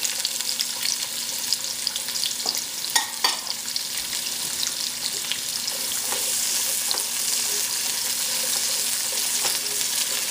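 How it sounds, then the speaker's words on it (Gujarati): Chopped onion dropped into hot cooking oil, sizzling and frying steadily and loud, with a few stirring clinks early on, no voices present. "પહેલાં આપણે નાખશું એની અંદર આપણી ડુંગળી."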